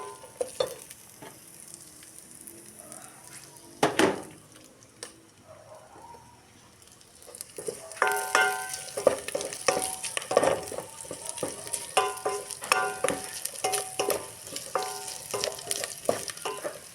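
Food toasts in a hot pan, sizzling lightly at first, then frying louder and more crackly after a spoon scrape. Scattered stirring clatter runs through it, and faint birds chirp in the background.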